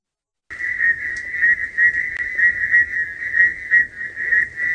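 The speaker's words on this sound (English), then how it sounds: "Can you hear the frogs?" Frogs call in the rain on a South African safari, a loud, close, continuous pulsing whistle-like trill that holds steady from just after the start to the end, with no talking.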